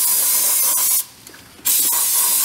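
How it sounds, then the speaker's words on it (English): Brake cleaner sprays in loud, close hissing bursts into a car distributor with a little oil inside: one long spray, a brief pause, then the spray resumes. "I'm cleaning it out with brake clean because brake clean doesn't damage plastic."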